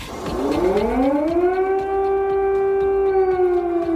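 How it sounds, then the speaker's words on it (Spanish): A loud air raid siren wails steadily in Independence Square, Kyiv, rising in pitch at the start and then holding a long sustained tone. "así es como sonaba hace justo medio año las sirenas antiaéreas en la Plaza de la Independencia de Kiev"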